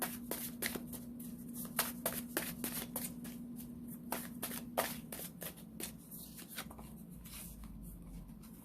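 A deck of tarot cards is shuffled by hand in quick, repeated bursts of papery riffles and soft slaps, close and crisp, with no talking over it.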